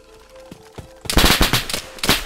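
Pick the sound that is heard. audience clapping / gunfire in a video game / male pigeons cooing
gunfire in a video game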